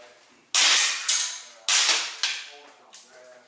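Loud gunfire rings out during police training while a room is cleared, with three sharp shots, each followed by an echoing tail, then a fainter fourth report. The shots come close together with no speech between them.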